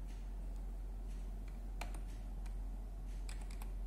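A computer keyboard clicks during a boot-menu setup for installing a Windows 10 and Ubuntu dual boot, with a few sparse, faint key presses over a steady low electrical hum.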